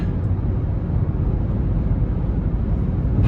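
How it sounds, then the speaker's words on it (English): Steady low rushing wind noise fills the cabin of a moving 2024 Buick Encore GX with a 1.3-litre three-cylinder engine and CVT, a constant dull roar with no voices. "Just hearing a little bit of wind noise"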